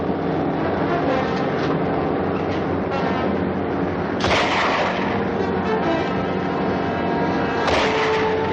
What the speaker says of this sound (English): Grab that rifle and shoot out the light.